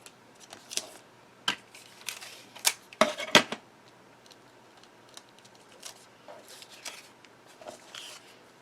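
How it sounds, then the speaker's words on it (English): Clear tape is pulled and pressed to join two cardstock pieces for a handmade card, giving sporadic crinkly, crackling bursts that are loudest in the middle, with quiet rustling between. "just use regular tape to attach them together"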